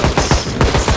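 Rapid gunfire from the video game Project Zomboid Build 42, fired at zombies: a fast, steady burst of about seven loud, punchy shots in one second, heard alone with no talking.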